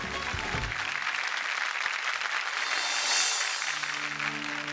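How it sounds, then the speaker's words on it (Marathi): Sustained applause from a television studio audience, steady and fairly loud throughout, with no voices standing out. "जोरदार टाळ्या होऊन जाऊ दे"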